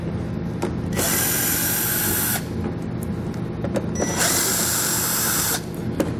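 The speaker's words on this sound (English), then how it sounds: "we're going to have 2 more fasteners that I'm going to remove with a 7/32 bit" Power drill fitted with a 7/32 bit backing out fasteners while installing a Curt trailer hitch receiver on a 2016 Ford Edge, two loud sustained whirring bursts close by with a pause between.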